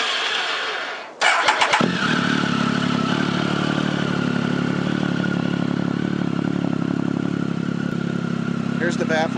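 A 2008 Triumph Tiger motorcycle engine starts after a brief crank, catches with a sharp clattering burst and settles into a loud, steady idle up close, with no talking over it.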